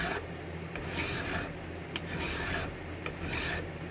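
A second-cut flat hand file rasps back and forth in steady strokes of roughly half a second to a second, close and loud, with short clicks between strokes and no talking.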